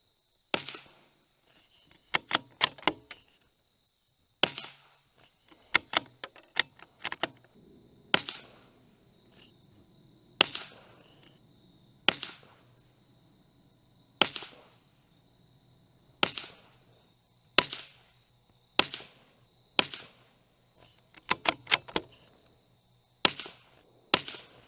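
Suppressed .22 LR rifle firing CCI standard velocity ammunition: about twenty sharp, muted cracks, some spaced seconds apart and others in quick pairs or triplets, each with a short tail, nearby and without talking.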